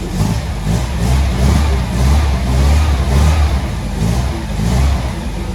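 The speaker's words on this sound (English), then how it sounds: "Maybe 4 or 5 firings, hit the gas into the carburetor." A 1965 MGB car engine with a carburetor runs loud and close, its rumble swelling and easing in repeated revs.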